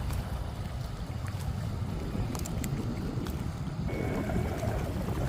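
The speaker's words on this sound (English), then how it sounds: "Blow, wind, blow," Strong wind buffets a fishing boat on a windy day of catfishing, a constant low roar and rumble of gusts over open water, with faint scattered clicks and no voices.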